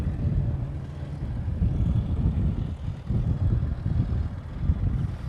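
An Air New Zealand Boeing 787 Dreamliner arrives at Honolulu airport, heard as a steady, distant low engine rumble that swells and dips slightly, with no voices.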